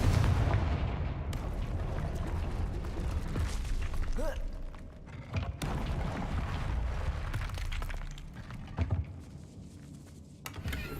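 A Confringo blast spell in a Harry Potter wizard video game erupts amid a dense, continuous wash of booming, crackling game effects, with several sharper hits breaking through the sustained roar.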